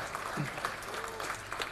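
An audience applauds in an indoor hall during an inspirational speech event, a short burst of moderate clapping with faint voices and murmurs mixed in.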